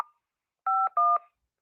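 Telephone keypad tones dialing *6 to unmute a conference line: a brief click followed by two crisp, loud dual-tone beeps in quick succession against silence.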